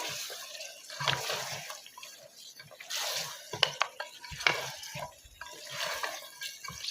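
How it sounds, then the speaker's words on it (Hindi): Mutton trotters being stirred and fried in spice masala for paya, with wet squelching, scraping and clatter of a spoon in the pot at irregular moments, close by. "तमाम पायों को इसके अंदर हम अच्छी तरह से भूनेंगे मसाले के अंदर।"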